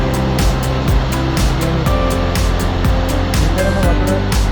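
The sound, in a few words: rushing water of Galapitayaya Estate waterfall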